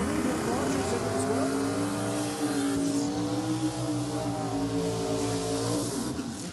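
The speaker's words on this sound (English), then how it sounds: "Daniel Saliba in the Datsun with the Barra turbo in it, running a little bit of nitrous in it" A Datsun race car with a Barra turbo engine and nitrous roars at a no prep drag racing event in Australia, sustained loud engine drone with rising tones, under an announcer's commentary.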